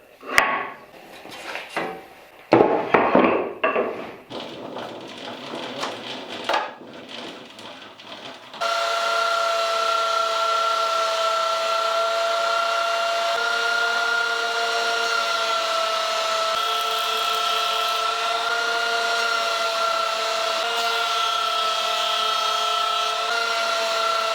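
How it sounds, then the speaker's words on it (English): Thickness planer feeding wood strips for an end grain cutting board, a steady loud machine roar with sustained whine tones that holds constant for about fifteen seconds, preceded by scattered clunks and handling knocks. "Now we're gonna run them through planer and glue them together"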